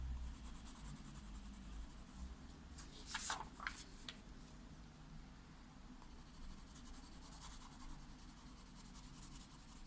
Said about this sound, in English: So again, you're using the side of the pencil.